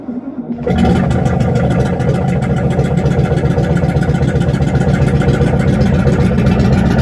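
A 1964 Cadillac Fleetwood engine starts up within the first second, then runs loud and close with a steady, rhythmic throb and a slightly uneven idle.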